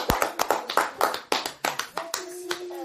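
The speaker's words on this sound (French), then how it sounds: "Applaudissons pour le Seigneur." Church congregation clapping in rhythm during a French worship service, a quick steady train of close hand claps with faint voices and a held tone underneath toward the end.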